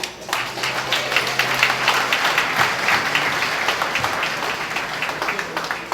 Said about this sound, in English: Let's clap them up, folks.